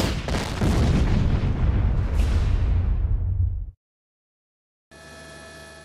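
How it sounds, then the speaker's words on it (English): A flammable hydrocarbon mixture explodes at a refinery FCC unit, a loud booming blast rolling and decaying over a few seconds, followed by silence and then a steady electronic tone. "There, the flammable hydrocarbon mixture violently exploded."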